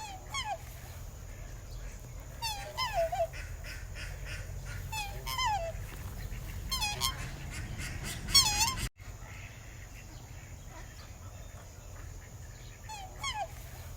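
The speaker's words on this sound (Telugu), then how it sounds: "హంస." Swans calling: a series of short nasal honking calls at irregular intervals, some in quick bursts, moderately close over a low, steady outdoor rumble.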